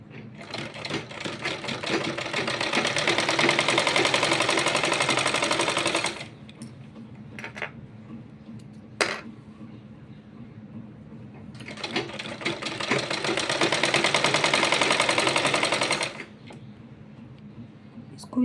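An electric sewing machine stitches the folded edge of a child's kurta, running in two long, loud whirring bursts separated by a quiet pause with small clicks, and no voices.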